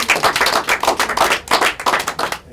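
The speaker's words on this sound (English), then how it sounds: "Give Joey a round of applause" An audience at a mentalism magic show applauds a volunteer, a close, loud, brisk clapping in a lively uneven rhythm with no voices.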